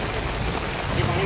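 Heavy rain falls steadily over a village, a dense, even hiss of water through the whole short stretch with no distinct drops standing out.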